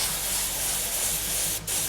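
Steady loud hiss of spray paint from a spray gun, continuous and close, with a brief dip near the end.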